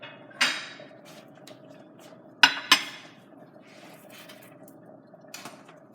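A plate being picked up and set down while making a chopped chicken BBQ sandwich: a few sharp ceramic clinks and knocks, close by, separated by quiet pauses.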